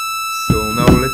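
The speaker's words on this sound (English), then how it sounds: "it's a pretty decent volt per octave tracking VCO" A simple volt-per-octave tracking VCO holds a steady, buzzy oscillator tone with bright harmonics throughout, and a voice starts talking over it halfway through.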